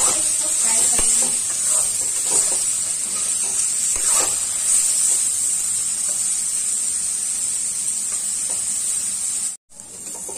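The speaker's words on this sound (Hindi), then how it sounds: "नमक डाल के इसको फ्राई करेंगे।" Jackfruit pieces frying in a pan with salt give off a steady, bright sizzling hiss, close and continuous, with faint clinks and stirring now and then before a sudden brief cut near the end.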